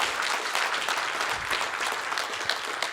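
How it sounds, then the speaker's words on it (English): An audience at a deposit coverage limit launch event claps steadily, a dense, even round of applause from many hands that fills the room without pause. "I think this deserves a large and loud round of applause"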